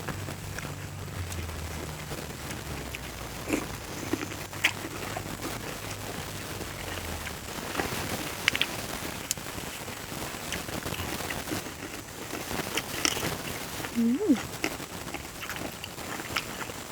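Steady, soft patter of rain falling, a continuous light hiss with occasional faint drips and a brief distant bird-like chirp.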